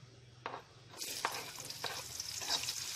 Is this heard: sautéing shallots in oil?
yes